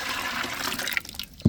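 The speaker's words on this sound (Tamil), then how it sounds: "அப்படியே பருப்பு தண்ணியாக சேர்த்துக்கிறோம்." Lentil cooking water is poured into a pot of wedding-style curry, a short, faint liquid splash and trickle ending in a brief louder splash.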